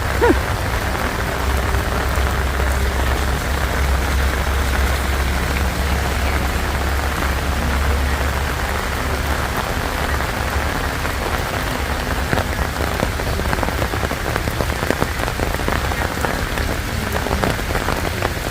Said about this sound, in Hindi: कुछ दिनों से यहाँ पे बारिश का ही माहौल बना हुआ है।